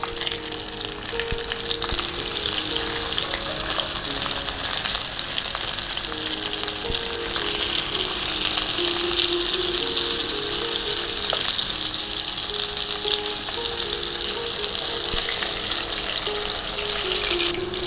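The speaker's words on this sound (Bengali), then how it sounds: "মাছটা উল্টে পাল্টে ভালো করে ভেজে নেব।" Pieces of rohu fish fry in hot oil in a pan, a steady close sizzle with crackling spatter and occasional scraping stirs, with no talk.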